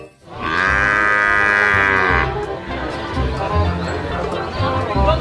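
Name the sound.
water buffalo mooing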